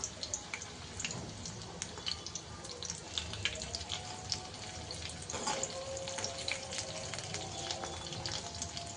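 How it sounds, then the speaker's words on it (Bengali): Loitta (Bombay duck) fish chops, slit down the middle and spice-coated, frying over low heat with a steady soft crackle and sizzle, close and continuous, with faint watery pops and no talking. "আমি আঁচটা কমিয়ে ভাজছি"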